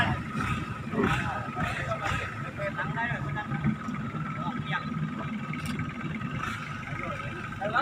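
Longtail boat ride toward Phet cave in Thailand, the boat's engine droning steadily throughout with water wash, while people talk over it.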